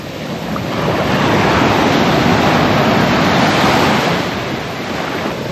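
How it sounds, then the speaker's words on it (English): Ocean waves break hard on a shore near San Carlos, Mexico, at sunrise: one loud, continuous rush of surf that swells, holds and then eases slightly, with no voices. "that beautiful full moon back there has these waves breaking hard this morning from sunrise"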